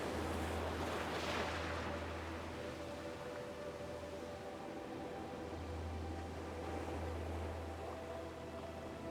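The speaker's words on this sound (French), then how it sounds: "Autour de vous, vous entendez le bruit doux des vagues, un rythme régulier, apaisant" Soft ocean waves wash in a slow, steady rhythm, a continuous gentle surf with a low rumble swelling and fading, calm and unhurried with no voices.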